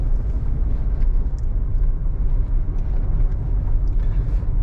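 Interior road noise from a Hyundai car driven after a head gasket repair: a dense, constant low rumble and hum, fairly loud, with no talking.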